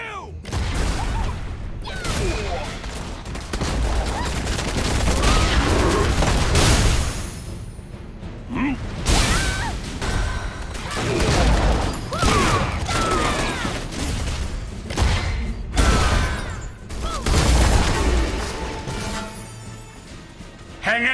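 Cannons fire in the Blade & Soul video game as a series of loud booming blasts and crashes through a chaotic battle, with voices talking over the fighting.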